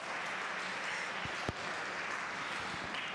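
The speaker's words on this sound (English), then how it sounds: "Please clap along with the end." An audience claps together at the 2021 Red Bull Basement local selection event, producing a dense, steady wash of applause for about three seconds with no voices over it.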